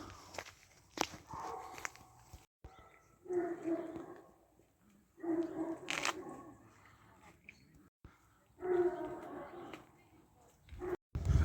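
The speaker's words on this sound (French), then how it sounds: "Là, c'est les chiens de chasse." Hunting dogs at Château de Cheverny bark and whimper faintly from a kennel at a distance. Footsteps and murmured voices nearby come in several bursts over the scene.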